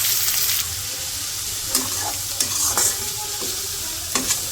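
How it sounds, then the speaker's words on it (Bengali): Spice paste of ginger and garlic sizzles and fries in a kadai with bay leaves and cardamom, with steady hissing and a few sharp scraping stirs of a spoon against the pan. "পেস্টগুলো একটু ভেজে নিই"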